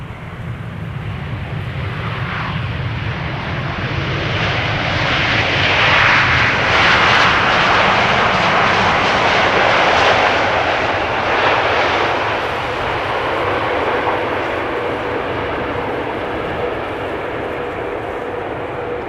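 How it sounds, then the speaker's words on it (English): KLM Boeing 787-9 Dreamliner, registration PH-BHA, arriving at Amsterdam Schiphol from Rio de Janeiro: a loud, sustained jet engine roar that swells as it passes nearest, then slowly fades into a lower rumble. "This is KLM flight 706 coming in from Rio de Janeiro."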